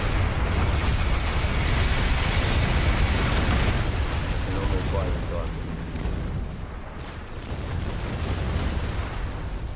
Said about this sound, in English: That's a normal firing cycle.